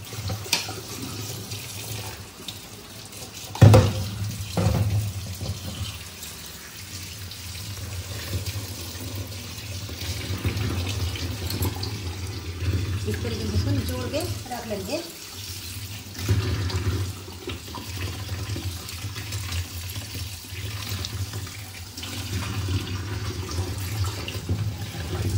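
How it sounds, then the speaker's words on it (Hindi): Dried lentil dumplings (badi) rinsed under a running tap, a steady splashing water stream with a sharp knock early on and shifting splashes as they are handled; no talking. "तो बड़ियों को हम धो लेंगे साफ करके।"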